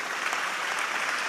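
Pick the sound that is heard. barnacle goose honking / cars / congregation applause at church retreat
congregation applause at church retreat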